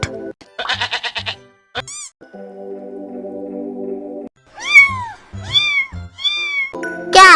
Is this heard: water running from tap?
no